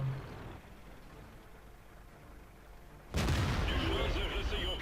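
A tank cannon fires in the World of Tanks video game, a sudden loud blast followed by sustained rumbling after a stretch of steady engine and battle noise.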